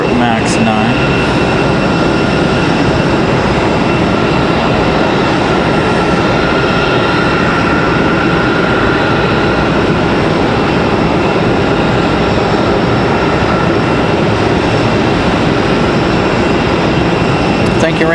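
Alaska Airlines Boeing 737 MAX 9 on the runway at Raleigh-Durham, bound for Seattle, giving a loud sustained jet engine roar with steady tonal whine across the whole span.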